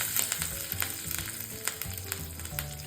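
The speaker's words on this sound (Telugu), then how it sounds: "చిటపట్లాడుతున్నాయి. ఈ పోపు వేగిపోయింది." Tempering spices with dried red chillies crackle and sizzle in hot oil in a pan, a close, busy frying hiss broken by frequent sharp pops, with no one speaking.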